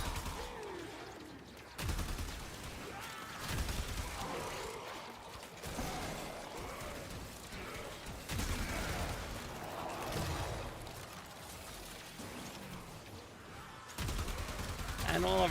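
Dense bursts of gunfire from many guns in the video game Warframe, rapid overlapping shots and booming impacts in waves, with a voice talking over the action.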